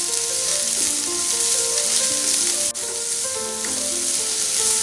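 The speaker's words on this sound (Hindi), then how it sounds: "अब हम इसमें बारीक कटे हुए गाजर डालेंगे, फ्रेंच बीन्स डालेंगे, मिला लेंगे और इसे 1 मिनट के लिए फ्राई कर लेंगे।" Finely chopped carrots and French beans frying in a pan for mixed vegetable mushroom soup, a loud steady sizzle with faint stirring scrapes and one brief knock.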